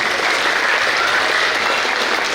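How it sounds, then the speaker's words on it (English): Audience applause at a sixth-grade graduation ceremony, a steady dense wash of clapping from a large crowd that holds evenly loud throughout. "One last round of applause for all of the special area awards winners."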